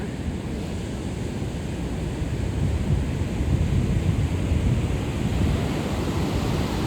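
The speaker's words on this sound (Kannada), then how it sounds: "ಭಾರಿ ಶಬ್ದ ಉಂಟು ಕಡಲ್ ಪೂರ ಪುಗೆ ಉಂಡು" Loud, rough sea surf pounds the shore at Mariyalad Beach, a continuous heavy roar of breaking waves with no pauses, steady and close throughout.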